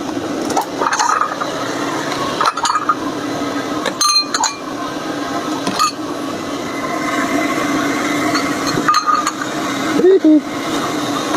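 Chicken noodles (mie ayam) being stirred in a bowl at Mie Ayam Mas Be on Jl Mojo Endah, producing repeated light clinks and scrapes of utensils against the bowl over a steady background hum.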